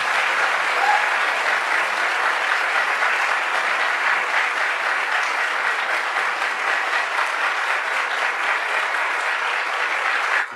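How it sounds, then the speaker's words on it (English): Loud, sustained audience applause welcomes a speaker to the stage at a lecture, an even roar of many hands clapping that runs unbroken for about ten seconds. "Thank you all for that beautiful applause."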